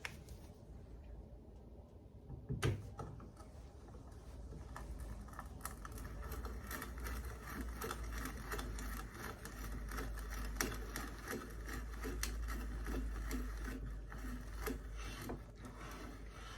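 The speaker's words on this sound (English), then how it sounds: "as we cut, these feet will stop on the surface of the wood and make sure that the bit doesn't go any deeper" Auger bit boring into wood, its travel limited by a Stanley No. 49 depth gauge, producing a dense, continuous scraping and crackling grind that starts abruptly after a quiet opening and holds steady, close and fairly loud.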